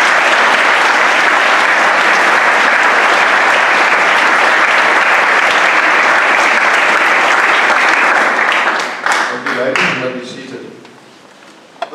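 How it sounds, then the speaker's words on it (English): Audience at a college valedictory ceremony gives a long, loud, dense round of applause that thins out near the end into a few scattered claps, with someone's voice starting over the fading clapping. "Let's give them a round of applause."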